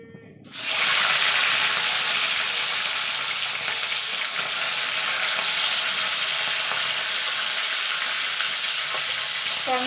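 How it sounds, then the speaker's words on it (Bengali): Tangra fish hit hot oil in a pan and set off a sudden, loud, steady sizzle and crackle that keeps going unbroken, close up, with no talking. "এবার মাছগুলো ভেজে নেব।"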